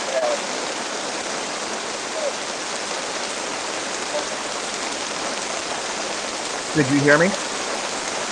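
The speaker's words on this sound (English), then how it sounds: "This rain is getting pretty bad" Heavy rain pours in a steady, dense hiss that fills the whole stretch, with a brief spoken voice rising over it near the end.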